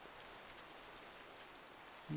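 Steady rain hissing down in the Minecraft video game, a soft continuous wash of drops with no gaps, quiet and even throughout.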